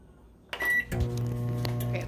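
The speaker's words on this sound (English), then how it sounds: "And now we have to put it in the microwave." A microwave oven starts with a short beep and a click, then settles into a steady, close mechanical hum with a low electrical drone that continues evenly.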